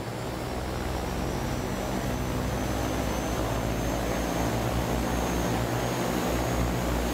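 An OV-10 Bronco turboprop in MSFS 2020 spins up during engine start, a steady loud whine and roar with a low propeller thrum that holds evenly throughout.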